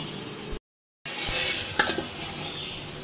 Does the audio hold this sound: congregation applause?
no